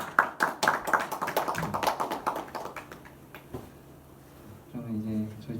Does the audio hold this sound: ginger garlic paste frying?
no